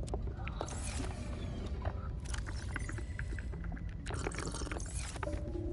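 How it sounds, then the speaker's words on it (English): Slurping drink sound effect from the video game Subnautica Below Zero, a wet, gulping rush set against a steady watery underwater ambience, with no voices. "Why does it have a slurping sound effect when you drink it?"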